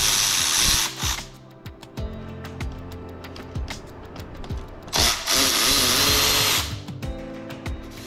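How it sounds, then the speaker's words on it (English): A power tool spins in repeated short bursts, removing T27 bolts from a transmission computer on an 8HP70 automatic transmission, with clicks and metallic handling sounds between the runs and no talk. "next we need to get a T27 and remove the bolts for the computer"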